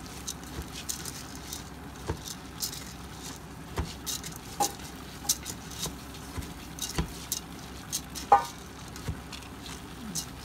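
Lentils and rice tossed with spices fry in a pan with a low, steady sizzle, broken by repeated scraping and stirring clicks at close range.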